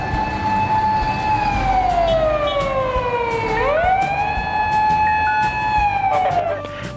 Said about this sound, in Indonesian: Mobil pemadam kebakaran ya